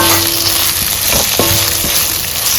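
Fried ivy gourd pieces drop into a hot pan of chili masala and sizzle loudly and continuously, with a couple of sharp stirring clinks over the frying hiss.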